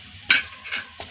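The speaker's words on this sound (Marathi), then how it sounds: "जिरे व्यवस्थित फुलले की त्यामध्ये आपण हा बारीक चिरलेला जो कांदा आहे तो टाकणार आहे" Finely chopped onion tipped into hot oil with cumin seeds, giving a sudden sizzling burst followed by two shorter crackling flares, close and fairly loud, with no one talking.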